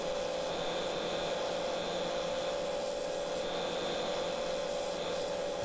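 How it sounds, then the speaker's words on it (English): Shear scraping on a sycamore bowl spinning on a wood lathe gives a steady, continuous rasping hiss over the constant hum of the lathe motor, unbroken for the whole stretch. "Trying a bit of shear scraping again."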